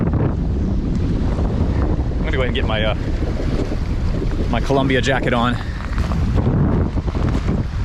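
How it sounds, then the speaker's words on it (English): Strong wind roars against the microphone throughout, with a person speaking briefly over the gusts. "It is windy."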